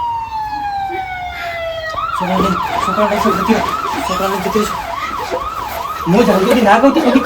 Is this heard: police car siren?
yes